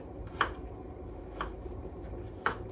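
Raw cow tripe being cut with a knife on a board, three separate sharp chops about a second apart, close and fairly quiet, without any talk.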